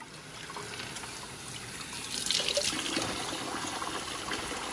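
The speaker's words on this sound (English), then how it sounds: "So right now I'm washing my collard greens so we can go cut it." Tap water runs into a sink while collard greens are washed by hand, a quiet continuous splashing trickle that swells slightly midway, with no speech.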